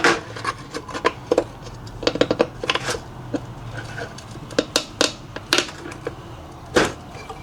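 A valve cover is pried off a Mercedes W220 engine: scattered scraping, rasping and creaking bursts come close up in uneven clusters, with brief quiet stretches between the efforts.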